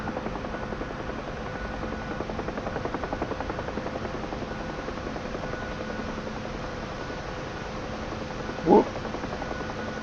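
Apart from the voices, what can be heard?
Huey helicopter flying in DCS video game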